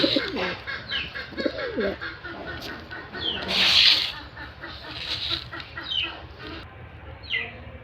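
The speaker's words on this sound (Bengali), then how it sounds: "এই যে কবুতরগুলোর খাবার দিলাম" Pigeons coo and call softly at close range while being fed, with scattered chirps and a brief brighter squawk midway, over a low background rumble.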